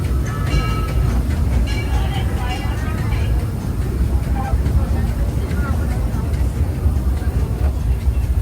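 Ride rumble from the Big Thunder Mountain mining train coaster at Disneyland at night, a steady low roar of cars on track with crowd voices and talk over it throughout.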